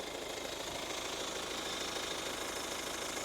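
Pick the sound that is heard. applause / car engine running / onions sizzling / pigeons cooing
car engine running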